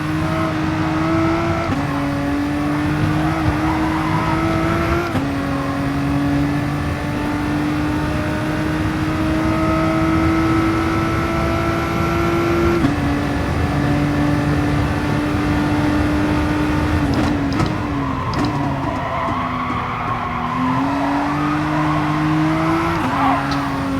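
A race car in Gran Turismo Sport runs at a loud, steady drone. The engine pitch climbs and drops sharply with each gear change and corner, over road and tire noise.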